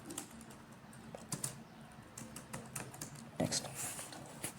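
Clicks from a computer keyboard come in short bursts with gaps, close and fairly quiet, as someone enters text in a web page editor.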